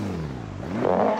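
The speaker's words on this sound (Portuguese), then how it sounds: "Esse é o barulho do motor, ó." Race car engine in Automobilista 2, driven with a wheel, heard as a brief, fairly faint rev whose pitch dips and then climbs.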